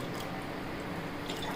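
Water is poured into a vessel for cooking pearl millet koozh, giving a brief, close, continuous splashing gush with no talk.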